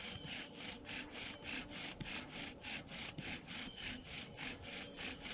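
A bow drill rubs wood into powder to start a fire, giving a steady, rhythmic back-and-forth grinding that repeats evenly at close range with no talk.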